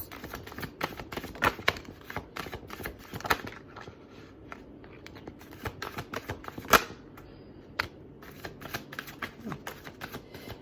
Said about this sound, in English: I like to finish shuffling